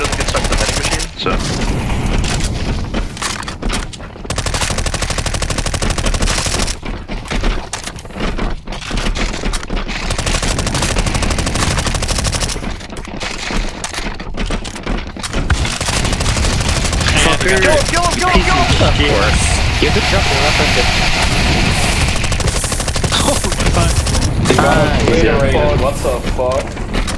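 Dense gunfire and bursts of automatic shots in a Counter-Strike 2 zombie escape round on the map ze_atix_panic_p, rattling steadily throughout with brief gaps, mixed with game noise and talking players.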